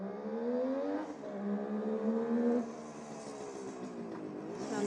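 A 1971 Kawasaki H1A 500 Mach IV motorcycle with a rebuilt engine runs close by, its harmonic drone rising and falling as the throttle is blipped, then dropping back to a steady idle.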